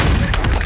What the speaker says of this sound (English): What a shot! Nice snipe.